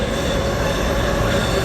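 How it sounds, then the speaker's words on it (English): A train at Berlin Hauptbahnhof, a loud steady rumble of rolling railcars with a sustained wheel squeal running through it, close and continuous with no talk. "So we're getting the Amsterdam train to Hanover"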